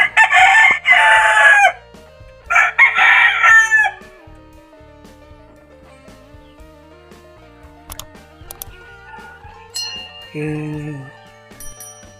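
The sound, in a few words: chickens clucking and crowing, four-month-old chicks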